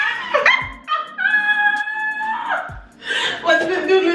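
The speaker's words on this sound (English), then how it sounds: "You see these dogs in the front yard?" Dogs barking in a front yard, several sharp barks and yips close by, mixed with voices talking over them.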